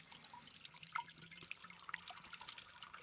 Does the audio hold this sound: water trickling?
yes